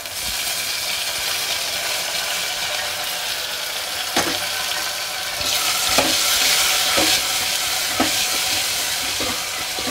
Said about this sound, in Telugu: ఈ తరిగి పెట్టుకున్న టమాటా ముక్కలు వేస్తున్నాను.